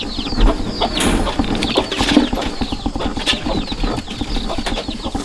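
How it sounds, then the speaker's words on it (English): Chickens cluck steadily inside a chicken coop, a busy close chorus of clucks with wing flapping and shuffling, no talking. "So this is my little chicken coop."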